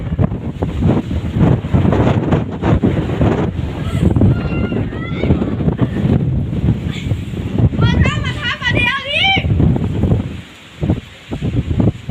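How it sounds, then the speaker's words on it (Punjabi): Gusty wind roars steadily outdoors in a village as a dust storm sweeps through, a broad, continuous rush with people talking over it and brief bird chirps breaking through. "ਹਵਾ ਦੀ ਆਵਾਜ਼ ਤੁਹਾਨੂੰ ਵੀ ਸੁਣਦੀ ਹੈ"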